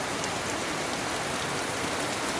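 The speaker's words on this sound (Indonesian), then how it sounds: "Menjelang tiba di ujung tujuan gerimisnya makin besar, jadi kami agak lari." Steady drizzle turning into heavier rain at a suspension bridge in Ciwidey, a dense, even hiss of drops hitting surfaces all around, continuous and fairly close, without talk.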